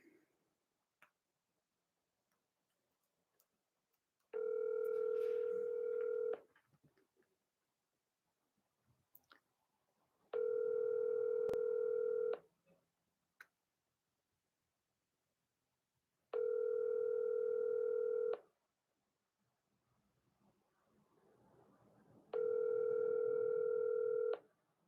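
An outgoing phone call rings back four times, each steady electronic tone lasting about two seconds and separated by roughly four seconds of near silence, heard clearly through the handset with faint background movement.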